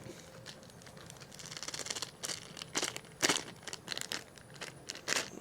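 Plastic packaging around ground meat for grilled burgers being cut and poked open, giving scattered close crinkles, tears and crackles with brief louder bursts, no talking.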